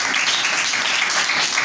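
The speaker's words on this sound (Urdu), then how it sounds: "زوردار تالیاں ماں درگا کے لیے بجائیں" A church congregation in Lahore breaks into loud, sustained applause, a dense wash of clapping that fills the whole moment.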